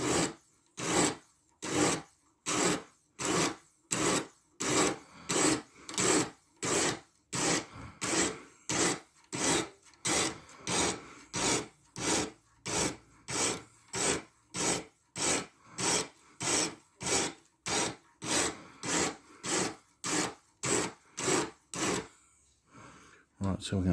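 Sitivien ST147 knife with 14c28n steel drawn repeatedly across a sharpening stone, steady rhythmic rasping strokes about once per second, close and clear throughout.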